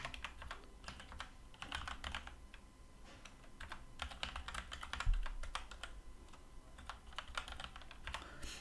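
Rapid clicking of a computer keyboard, with close, irregular bursts of keystrokes and brief pauses throughout, heard alone without talk.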